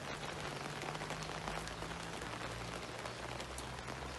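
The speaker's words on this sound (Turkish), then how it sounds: "Yağmur bastırdı gel." Constant rain patters down without pause, a dense, even hiss with a faint low hum beneath it.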